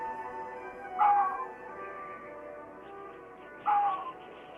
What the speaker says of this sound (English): These solitary animals communicate over long distances by barking.